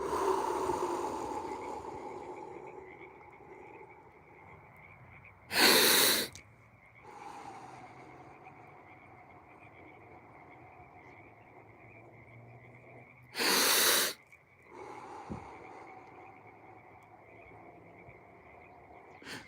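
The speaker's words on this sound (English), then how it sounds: "inhale faster and harder and exhale slower" Exaggerated breathing demonstration: two sharp, loud, fast inhales about eight seconds apart, each followed by a long, slow, faint exhale against quiet background hiss, with no talking.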